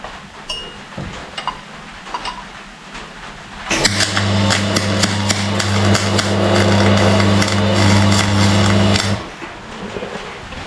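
Arc welder tack welding steel for a gold prospecting dolly pot: a steady loud crackling buzz lasting about five seconds, set between quieter workshop clanks and taps.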